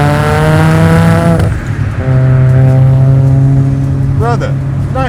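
A 500whp single-turbo Mazda RX-7 pulls hard under boost, its engine note rising loud and close, dropping briefly on a shift, then climbing again, with a short high-pitched chirp near the end.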